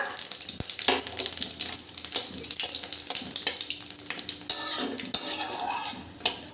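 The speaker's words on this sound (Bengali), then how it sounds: "ফড়ংটা ভালো করে একটু ভাজা ভাজা করে নিচ্ছি" Bay leaf, dried red chili and spices frying in hot mustard oil in a pan, a steady close sizzle with frequent spatula scrapes and clinks of metal on metal throughout.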